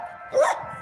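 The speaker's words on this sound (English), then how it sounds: "That's my dog making a lot of noise." A single short bark from a dog, fairly close, rising briefly out of a quiet background.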